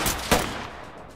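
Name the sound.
gunshots from the video game Ready Or Not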